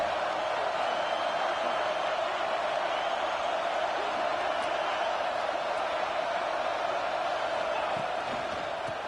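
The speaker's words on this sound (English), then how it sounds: "this crowd trying to help keep them there" A stadium crowd in the College Football 26 video game gives off a steady, distant roar that holds at an even level throughout, with no distinct cheers standing out.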